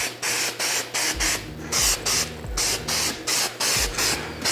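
An aerosol can mists a protective anti-rust coating onto 40 HP VW engine parts in about a dozen short, evenly spaced hissing bursts, close and clear, with no voices.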